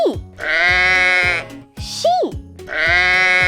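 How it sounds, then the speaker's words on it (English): Sheep bleat in a children's animal-sounds lesson, two long, loud wavering bleats framing a short rising voiced call, set over a steady rhythmic music beat. "Sheep,"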